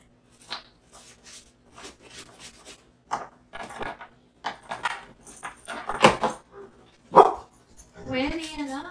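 The dog Winnie barks several times, the sharp barks scattered through a stretch of indoor rubbing and handling noise, with a short whine or voiced sound near the end.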